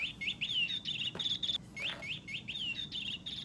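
A cat toy gives off rapid, high bird-like tweeting chirps in repeated bursts with brief gaps, fairly close, over a steady background hiss.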